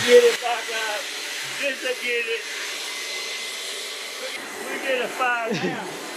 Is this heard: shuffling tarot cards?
no